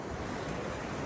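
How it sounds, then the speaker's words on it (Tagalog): Strong ocean waves surge and wash continuously, a dense roaring rush of surf with wind, no voices. "It's a little bit strong waves"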